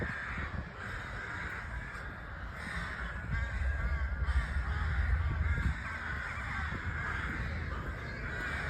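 Crows caw outdoors amid a dense, noisy background of other bird calls, the harsh calls fairly steady and moderately loud throughout.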